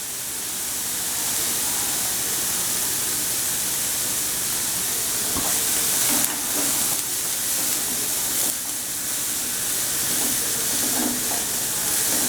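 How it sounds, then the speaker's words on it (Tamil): Green chilies and curry leaves frying in a pan give a steady, close sizzle and hiss with light stirring scrapes, no talking. "அடுத்தது பச்சை மிளகாய் கருவேப்பிலை போடுறேன்."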